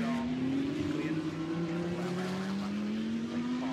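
GT race cars pulling out onto the Brands Hatch circuit during free practice, engines droning steadily with pitch slowly rising as they accelerate, loud and continuous with no talking.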